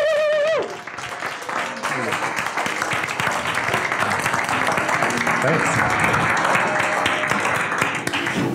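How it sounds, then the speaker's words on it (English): Startup conference audience breaks into a long, loud round of applause right after a brief spoken thanks, the dense clapping sustained evenly throughout the room. "Please join me in giving him a huge round of applause."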